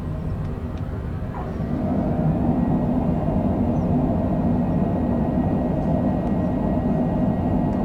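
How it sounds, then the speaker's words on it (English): An airliner's thrust reversers roar after landing on a runway in Northwest Arkansas, a loud broad rumble that swells after about two seconds and then holds steady and heavy to the end. "Reversers."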